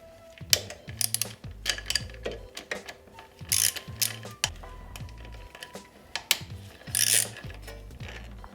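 A hand ratchet clicks in quick repeated bursts while backing out 8 mm bolts from the engine cover of a Yamaha YZ426F, close and crisp, with small metallic taps between strokes and no talking.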